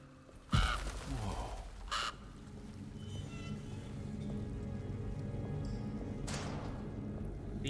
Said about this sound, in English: The old birds, crows fly away jump scare.